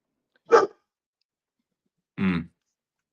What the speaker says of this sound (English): Got the dog barking.